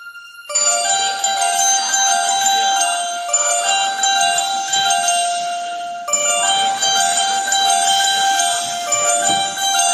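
Temple bells ring with sustained metallic tones, several bright pitched partials layered and steady, struck again around the middle and continuing loudly throughout.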